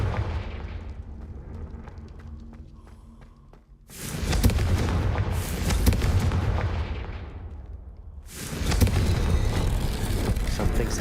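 Explosions from the Confringo fire spell in the game Hogwarts Legacy, two heavy booming blasts a few seconds apart, each followed by a long rumbling decay, loud and close with no talk.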